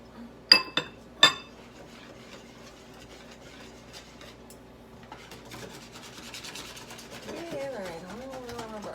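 A utensil clinks against a glass bowl a few times, then rubs and scrapes steadily while melted butter is stirred into eggs and cheese for a breakfast casserole. A voice talks near the end.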